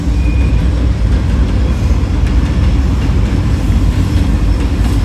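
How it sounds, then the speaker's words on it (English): A train rolls past a cemetery with a loud, steady, rumbling roar and faint clatter of railcars, close by and continuous, with no talking. "Wow, we got a train in the shot."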